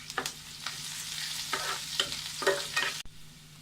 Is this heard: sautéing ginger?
yes